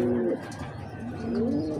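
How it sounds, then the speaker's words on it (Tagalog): Pigeons coo in low, rolling murmurs, one call fading out and another swelling back, close by with soft rustling behind. "At dito naman, update tayo dito sa ibon ni Boss EJ."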